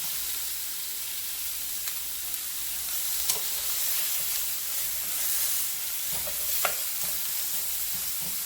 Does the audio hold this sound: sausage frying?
yes